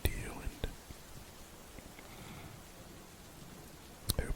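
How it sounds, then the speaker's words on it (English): Steady recorded rain hisses throughout beneath soft whispering, with a few sharper taps and clicks near the start and end; no distinct thunder rumble stands out. "with the accompaniment of a recording of some rain and some thunder"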